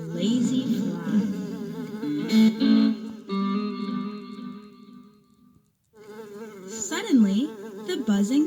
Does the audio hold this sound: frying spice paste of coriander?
no